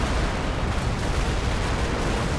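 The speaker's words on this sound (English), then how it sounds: "These rocket artillery, man." Rocket artillery fire in Combat Mission: Cold War, a continuous dense rumbling roar of overlapping blasts with no break.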